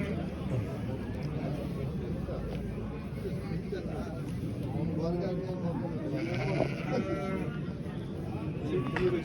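Sheep bleat repeatedly at a busy livestock market in Yangiobod, Jizzakh region, with overlapping near and distant calls over a constant crowd murmur and people talking.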